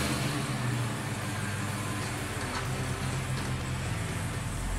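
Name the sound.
supercharged LSA V8 engine idling in 1968 Oldsmobile Cutlass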